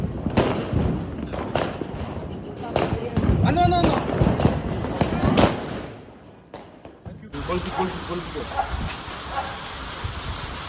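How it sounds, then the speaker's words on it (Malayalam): Diwali firecrackers, including a large bomb-type cracker, burst outdoors in a series of sharp, irregular bangs and crackles, some near and some distant, with a dog barking and people talking in the background. "ഗുണ്ട് പൊട്ടിക്കാനുള്ള തത്രപ്പാടിലാണ്."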